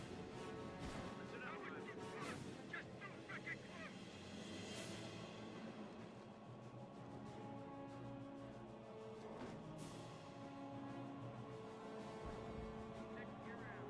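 Artillery bombards an area in a war video game with scattered sharp distant blasts and thuds over a low rumbling battlefield bed, fairly faint and irregular.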